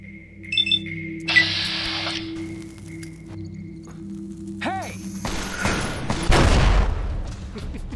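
Grenade rifle in Fallout New Vegas fires with a booming thump and blast, followed by a louder burst of explosion noise near the end, amid game sounds, beeps and background music.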